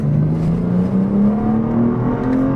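A BMW M2 engine revs up with a rising whine, growling loud and close as it accelerates, no voices over it.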